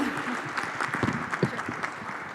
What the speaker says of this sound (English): Big round of applause for Susan.